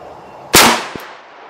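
A single sharp, loud shot from a 350 Legend rifle firing a 180 grain heavy lead tip round, a sudden crack that decays quickly, followed by a faint click.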